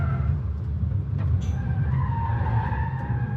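A car brakes hard into a chicane on a test track, its tyres skidding and scrubbing over a low engine drone, close and steady for a few seconds with a faint squeal rising midway, no talking.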